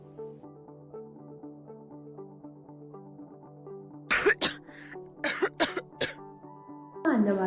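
A person coughs several times in sharp, loud bursts, including a quick run of three or four and a final heavy cough, over soft, steady background music.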